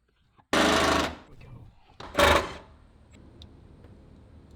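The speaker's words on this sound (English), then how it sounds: "to remove both of these nuts, we're gonna use a 14 mil and the old Milwaukee" A Milwaukee impact tool fitted with a 14 mm socket rattles off strut bar nuts on a 2JZ-swapped FRS, two loud buzzing bursts close up, the first longer, the second short, separated by a quiet pause.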